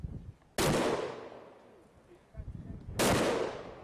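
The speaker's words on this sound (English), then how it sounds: "at this well-used range, the noise of gunfire becomes a welcome sound of assurance" Gunfire at a law enforcement shooting range: two sharp, loud shots about two and a half seconds apart, each followed by a long echoing decay across the open range, with faint background noise between.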